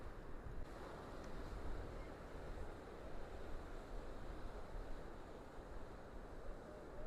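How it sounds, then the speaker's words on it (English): Strong wind buffets the microphone over a continuous roar of ocean surf at St. Pete Beach, broad and steady throughout with no clear voices. "It's beautiful here, very windy."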